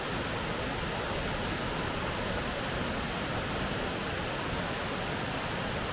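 A waterfall at Ricketts Glen State Park roars as a dense, steady rush of falling water, loud and close, with no let-up or other sounds.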